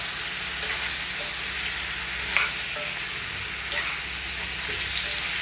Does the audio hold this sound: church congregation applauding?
no